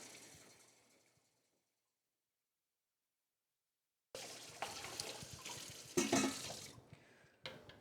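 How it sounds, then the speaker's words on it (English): After a short silence, three cups of water pour and splash into a pan of toasted rice, a fairly close, uneven gush lasting a few seconds. "we're gonna add in 3 cups of water"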